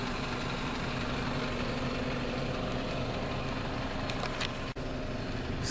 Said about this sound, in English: right now the engine's running